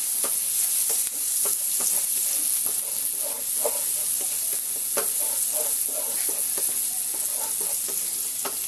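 Spicy bulgogi and seafood fry in a hot pan, a loud, dense sizzle close by that runs without pause, broken by frequent quick scrapes and stirring taps.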